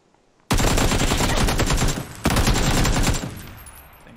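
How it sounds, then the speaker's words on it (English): Two loud, close bursts of rapid automatic gunfire in PUBG tear in suddenly, separated by a short pause, with the second burst trailing off. "No, I got shot by K9 too."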